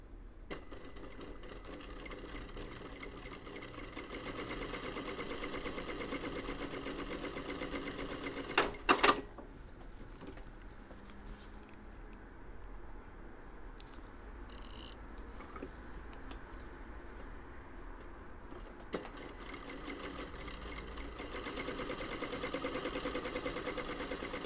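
A Juki sewing machine being modified runs in stretches, giving a faint steady mechanical whir that stops briefly midway with a few sharp clicks before running again.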